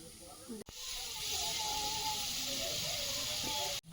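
A loud, steady sizzle as Bengali five-spice seeds hit hot oil, starting abruptly and hissing continuously for a few seconds.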